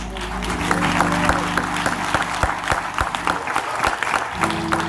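Church congregation at a Baptist baccalaureate service applauding graduates, steady clapping throughout with a low organ or keyboard tone held underneath.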